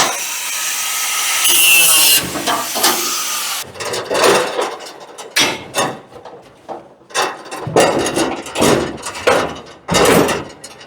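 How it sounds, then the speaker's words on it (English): Old wheel bolts being cut out with a power tool during a 6-to-5 lug conversion, a loud grinding burst at first, then repeated short rasping cuts with pauses in between, close up and with no talk. "I got some old bolts I gotta cut out."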